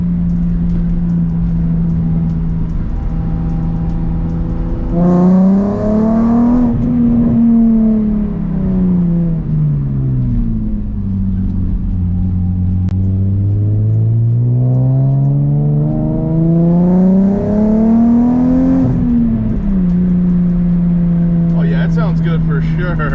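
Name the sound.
Nissan 350z with Flashark Y-pipe single exhaust downshifting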